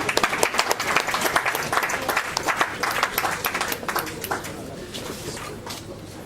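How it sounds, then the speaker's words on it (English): An audience at a book launch lunch claps for a former president, a loud busy patter of many hands that holds steady and gradually softens, with voices murmuring faintly underneath. "Is somebody clapping for President Jonathan here?"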